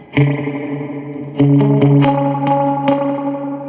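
An electric guitar played through a 1967 Fender Princeton Reverb amp with the reverb turned fully up rings out in a few plucked notes and chords, each trailing a lush, drippy tail.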